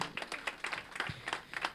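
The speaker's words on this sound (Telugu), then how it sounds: "ఒకసారి గట్టిగా చప్పట్లు కొట్టాలి" Faint scattered clapping, a small crowd applauding at a birthday celebration event, with uneven, overlapping claps over a short stretch.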